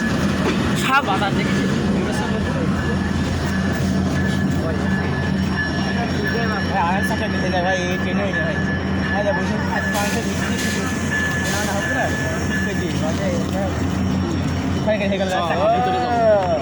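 Sagardari Express passenger train idling and rumbling at a station amid crowd noise, steady and close, with some squealing wheels and someone speaking over it.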